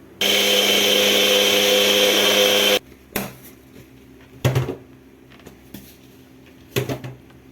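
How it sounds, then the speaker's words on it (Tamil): A mixer grinder blends coriander powder into a paste, a loud steady whirring burst of about two and a half seconds, then stops, followed by a few sharp knocks and clatters of the jar. "இது மிக்சியில் போட்டு நல்லா பேஸ்ட் பண்ணி எடுத்துக்கலாங்க."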